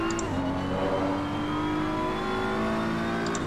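A car engine in the Assetto Corsa driving game, played on a PXN V10 wheel, revs high and sustained while drifting, its whining pitch sliding steadily upward, loud and alone without talk.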